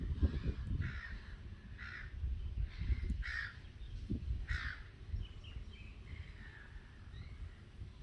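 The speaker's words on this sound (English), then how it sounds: "listen to the seagulls in the background" Gulls call from a distance in repeated harsh, cawing cries spread across several seconds, over a low rumble of wind and outdoor ambience.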